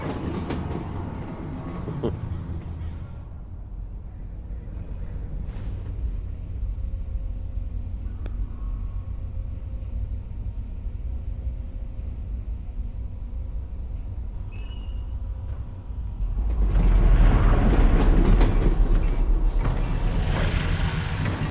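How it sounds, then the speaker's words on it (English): A train moves on rails in the Half-Life: Alyx VR game, a continuous rumbling rattle of wheels and carriage mechanisms that eases off mid-clip and then swells louder near the end, with no talking over it. "Did the train stop? It stopped, didn't it?"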